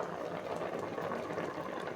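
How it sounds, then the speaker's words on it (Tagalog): Paksiw na tulingan, a vinegar fish stew, bubbling at a rolling boil in a pot, a dense close simmering gurgle throughout. "Ayan, kulo na"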